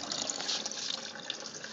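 Beer wort first runnings from an all-grain Two Hearted Ale clone mash draining steadily into a vessel, a continuous close, moderately quiet splashing trickle.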